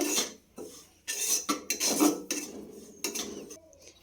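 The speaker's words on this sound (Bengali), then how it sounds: "সুজি আর দুধ খুব ভালোভাবে মিশিয়ে নেব।" A spoon clinks and scrapes around a metal pot while semolina and milk are stirred together, a string of irregular close clatters and rasps with short quiet gaps between them, no voices.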